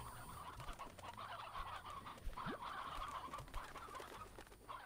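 Chickens in the Slime Rancher video game cluck and chatter in a steady flock-like murmur, mid-distance and fairly quiet, with no speech over it.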